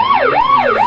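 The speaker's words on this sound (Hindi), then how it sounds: "मेरे मोबाइल की रिंगटोन क्यों आ गया?" A siren-like mobile phone ringtone wails in loud, rapid up-and-down sweeps, close and clear, with no voices over it.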